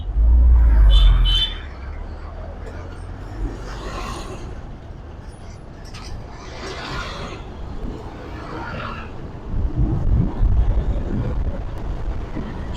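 Cars pass on a Sikkim mountain road as traffic heads back toward Siliguri, with a loud close engine rumble at the start, a quieter stretch of road noise, then another vehicle swelling up near the end, while people talk.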